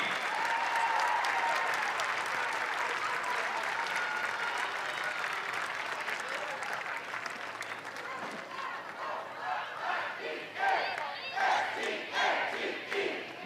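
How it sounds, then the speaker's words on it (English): Sustained audience applause in a softball stadium for the ACC Softball All-Tournament Team, a dense wash of clapping with crowd noise that thins into scattered claps toward the end. "Let's give a round of applause to the 2026 ACC Softball All-Tournament Team."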